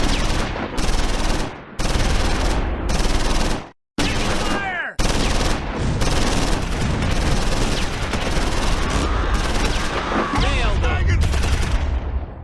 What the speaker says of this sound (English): The mortar joins the fight.